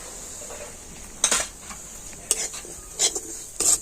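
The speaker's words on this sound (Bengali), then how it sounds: "তো ঘিয়ের সাথে সুজিটা আমি একটু হালকা করে ভেজে নেব" Semolina is stirred as it fries in hot ghee, with a faint steady sizzle under intermittent sharp scrapes and clinks of a utensil against the pan, close and fairly quiet.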